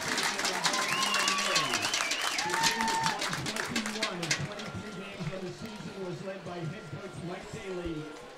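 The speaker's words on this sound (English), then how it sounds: "Another round of applause there for them." A crowd applauds and claps at a Tufts Jumbos versus Bates Bobcats college football homecoming game, a broad wash of clapping under a loud announcer's voice and crowd chatter that fades slightly toward the end.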